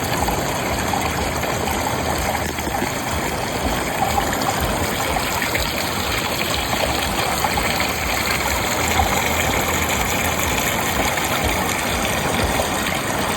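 Cold spring water from a mountain source flows steadily, a continuous broadband rush and trickle heard close and fairly loud throughout with no voices.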